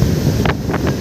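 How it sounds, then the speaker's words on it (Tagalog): Strong ocean waves at a beach on Boracay, a loud roaring wash heavily buffeted by wind on the microphone, with a few short sharper bursts over the steady surge. "Nakalakas ng alon."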